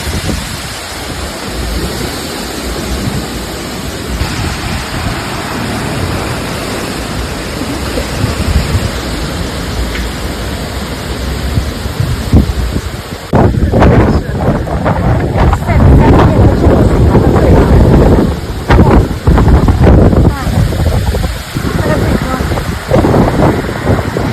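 Heavy rain pours steadily while strong wind buffets the microphone, growing louder and gustier midway through, with occasional voices underneath.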